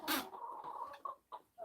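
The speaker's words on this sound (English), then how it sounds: "Well, the chickens are happy for the first time in days" Backyard chickens cluck contentedly after being fed barley, a few short close clucks and calls, loud and clear with no talking over them.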